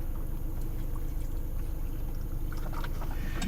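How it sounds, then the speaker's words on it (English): Water pours steadily into a dog's small cup, a continuous close splashing with faint clinks throughout. "Here, let me give you a little water."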